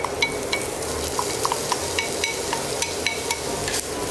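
Mushrooms fry in oil with lemongrass in a pan, giving a dense, close sizzle dotted with regular scraping taps as they are stirred.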